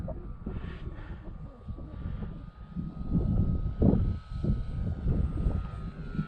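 An E-flite T-28 RC model airplane flying in to land on a windy winter day, its electric motor whine steady and fairly distant, swelling louder toward the middle as it passes closer, with wind buffeting the microphone.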